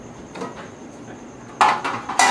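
Regular oven-safe skillet handled in a home kitchen, with soft taps early on and then two sharp metallic clanks near the end, close and fairly loud, with no talking.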